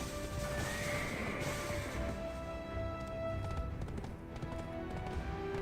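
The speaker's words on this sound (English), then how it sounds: "I forgot this horse doesn't know how to run." A horse in the Black Desert video game trots along with a steady, moderately loud clip-clop of hooves over ambient game sounds, with no one talking.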